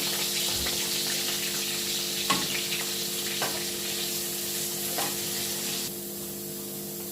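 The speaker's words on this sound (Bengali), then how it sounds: "পেঁয়াজ আমি দিয়ে দিলাম, লাল রসুন, পেঁয়াজটাকে লাল লাল করা করবো" Chopped onions frying in a pan with garlic for Bengali ghugni: a steady, close, hissing sizzle that runs throughout, with a few soft taps and stirring clicks on top and no talking.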